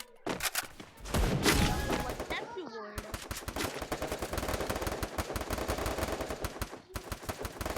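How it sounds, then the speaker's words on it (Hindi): Sniper rifle fire rings out in a video game training ground, with rapid, dense strings of sharp shots and echoing reports continuing loudly for several seconds, broken by brief pauses. "हम तो स्नाइपर ही चला रहे हैं।"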